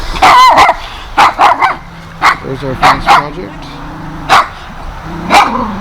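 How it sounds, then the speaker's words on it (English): Dogs bark in several sharp, loud bursts near a garden fence, some barks overlapping with someone talking in between. "Hopefully the dogs won't be barking."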